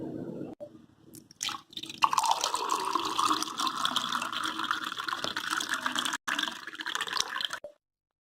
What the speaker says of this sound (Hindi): अब हम इसे ग्लास में डालेंगे।